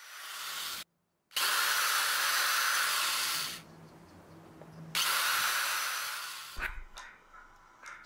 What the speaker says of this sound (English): I need to drill a hole right there.